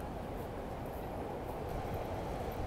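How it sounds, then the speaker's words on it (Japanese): An E7 series Shinkansen climbs a steep gradient from underground onto a viaduct in a dense city, its broadband rumble steady and fairly loud throughout, with no clear clatter of individual wheels. "お、新幹線やってきましたね。あれは E7 系ですね。"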